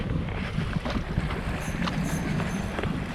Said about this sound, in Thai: ตอนนี้เดินมาอีกจุดนึงครับ แต่ตรงนี้ลมจะแรงหน่อย